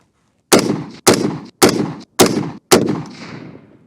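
Five sharp, loud gunshots from an Orca rifle, evenly spaced about half a second apart, each with a short decaying echo, close up and with no talk.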